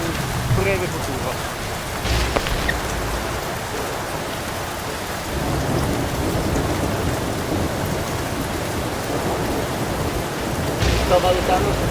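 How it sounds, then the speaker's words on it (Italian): Steady rain falls in Vaduz, Liechtenstein, a dense continuous patter on surfaces heard close, with a few brief louder bursts and no talk. "la pioggia non è così cattiva"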